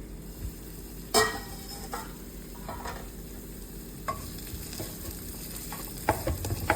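Tomatoes sauté in a pan for a tilapia fish curry: a soft, continuous sizzle with scattered spatula stirs and knocks against the pan, close and unaccompanied by speech.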